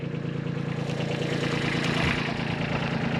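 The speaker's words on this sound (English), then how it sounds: "tractor saved the day today" A tractor engine idles close by with a steady, low, even rumble that runs unbroken throughout, with no voices over it.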